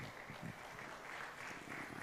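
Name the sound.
audience applause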